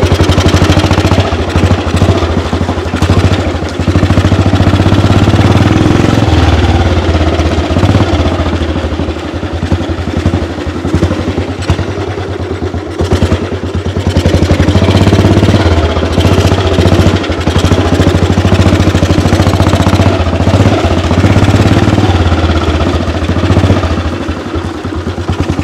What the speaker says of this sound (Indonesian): gue udah selesai nih nyobain motor tua kesayangan gue, AJS tahun 48 500 cc